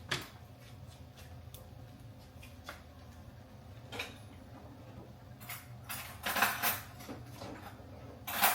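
Cabbage and shrimp being stirred in a pan, with intermittent metallic scrapes and clinks of a utensil against the pan over a low cooking hiss, growing busier toward the end.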